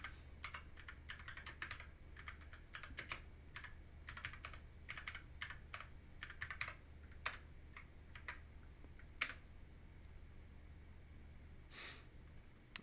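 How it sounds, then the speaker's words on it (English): Quick one-handed typing on a computer keyboard at a desk, with irregular bursts of key clicks spread across the whole stretch over a steady low hum, no talking. "It's kind of hard to type with one hand."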